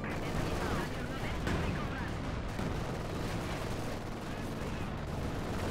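Gunfire in Company of Heroes 2, with dense rattling shots and distant booms blended into a thick battle din, steady and moderately loud, and a voice talking underneath.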